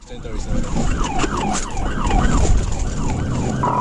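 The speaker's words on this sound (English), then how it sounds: "The trooper activated his sirens" A wailing Arkansas State Police siren sweeps up and down repeatedly over road rumble, loud and close, from a moving patrol car in a high-speed pursuit.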